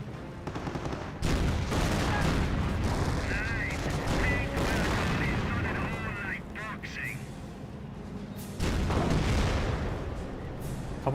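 Rifle squad gunfire from the World War II strategy game Company of Heroes, with dense bursts of shots and booming impacts running throughout, while a commentator talks over the battle.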